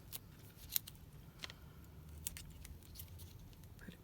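Scissors trimming small paper pieces for a handmade three-window panel card: quiet, scattered snips and light paper rustles, close and soft, with no talking.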